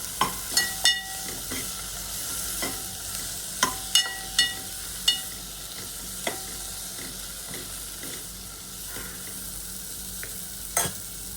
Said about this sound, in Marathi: आणि आता यामध्ये मी हे बारीक चिरलेलं टोमॅटो ॲड करणार आहे। याला पण व्यवस्थित मिक्स करून घ्या।